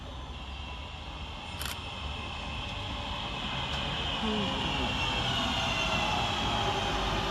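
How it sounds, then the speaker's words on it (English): A Northern class 323 electric train, unit 323-231, pulls into Kidsgrove station with a steady rising rumble that builds and then holds loud, with a sharp brief click near the start. "here comes our train in the form of 323-231, working the 12:31 Northern Service from Manchester Piccadilly to Stoke-on-Trent"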